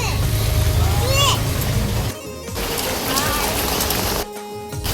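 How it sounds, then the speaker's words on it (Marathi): Heavy rain pours in a dense, steady roar that cuts out briefly twice, with a voice faintly present beneath it. "थोडा डेंजर पाऊस होता"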